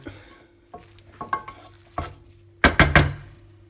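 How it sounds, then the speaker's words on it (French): A bacalhau à brás mixture of salt cod is stirred as it cooks on a gas hob, giving several scraping stir strokes over a soft sizzle, ending in a quick cluster of loud scrapes. "Je mélange. Et je laisse cuire."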